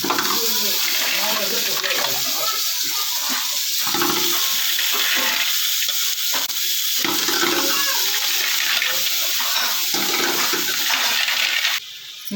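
Water pours steadily into a pan while cooking marvai (clam) sukka, with a continuous rushing, splashing sound that runs nearly the whole time, then cuts off near the end.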